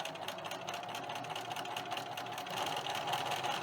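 Domestic sewing machine running steadily while stitching fabric strips onto a potholder, a continuous mid-pitched motor whir with a rapid needle chatter throughout, close and fairly loud with no talking.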